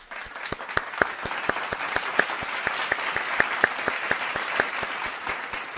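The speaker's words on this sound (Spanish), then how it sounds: "Espera un momento. Aplauso." A burst of crowd applause with many hands clapping evenly, a few sharper claps standing out, steady and fairly close, no one speaking.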